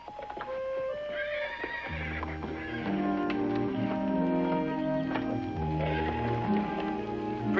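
Horses whinny and snort nearby, with shuffling hoof movement and stable noises throughout.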